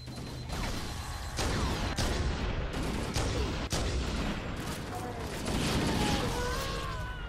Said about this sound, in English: Oh, everything is blowing up.